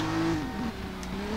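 A car drifting and braking hard into a handbrake stop in Driver: San Francisco, engine note dipping and sliding with faint tire noise, steady and close with no talk.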